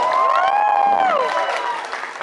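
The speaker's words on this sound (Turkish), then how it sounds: "Alkışlıyoruz tekrar." Wedding guests applaud in a steady wash of clapping that fills the whole stretch, with ringing tonal sounds gliding over it before it eases slightly toward the end.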